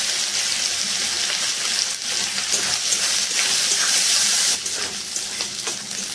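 Grated ginger and whole cumin seeds fry in hot oil in a pan, making a loud, continuous hissing sizzle that swells briefly midway and then eases a little.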